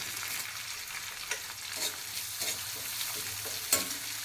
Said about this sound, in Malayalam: ഉള്ളിയൊക്കെ ഒരു ബ്രൗൺ കളറാവുന്നിടം വരെ വഴറ്റിയെടുക്കുക